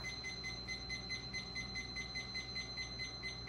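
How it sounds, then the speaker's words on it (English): A kitchen timer beeps in quick, evenly spaced electronic pulses, faint and steady, with no one speaking. "So I set the timer 90 minutes"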